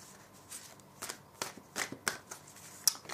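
A tarot card is pulled from a deck as a series of crisp, close shuffling and flicking snaps, about eight quick card sounds over a few seconds, with no speech.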